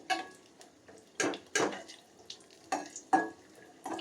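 Cashew nuts frying in a pan while making katte pongali, heard as soft clinks and scrapes of a spoon stirring against metal, in short bursts over a low sizzle with no talking.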